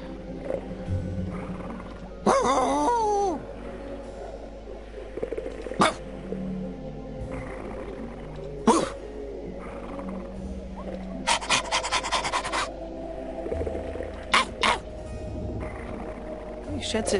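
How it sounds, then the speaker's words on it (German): A stinky old dog in Monkey Island 3 pants and growls in short rasping bursts over a low game ambience, close and intermittent, with a voice speaking between the sounds. "Es ist ein stinkender alter Hund."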